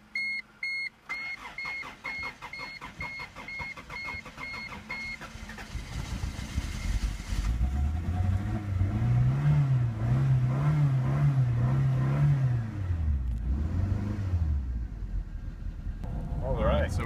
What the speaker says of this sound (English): we're taking the car out for a spin after changing the oil, doing the transmission